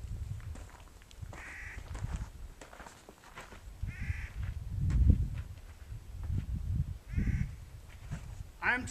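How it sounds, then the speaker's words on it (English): Crows cawing in a grove of bristlecone pine trees, several harsh calls repeating at intervals, some close and some farther off, with a person talking throughout. "The birds are squawking at me, telling me to get away from their trees."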